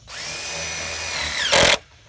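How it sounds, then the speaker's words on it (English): A power drill whines steadily as it drives a screw into drip edging on an outhouse build, then ends with a loud, brief grinding burst before stopping. "I'm just going to put a couple of screws in it"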